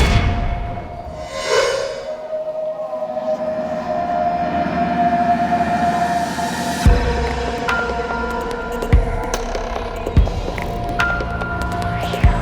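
A train moves at the Sanders Road station platform, giving a rising horn-like whine, then a sustained rumble with several heavy metallic clunks at intervals.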